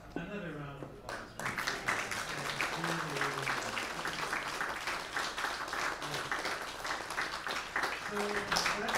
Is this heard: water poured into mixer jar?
no